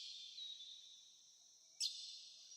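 Birds chirp faintly outdoors as a thin, steady high-pitched trill, broken near the end by one sharper, brighter chirp.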